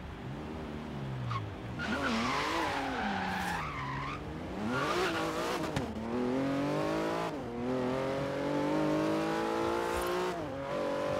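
A Porsche GT2 RS on a test drive in Forza Horizon 3, engine revving hard and rising through gears with repeated tire squeals and skids, loud and continuous throughout.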